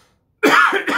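Sudden harsh coughing fit from a person partway through a political speech, a couple of loud close bursts after a moment of silence, with no talking over it.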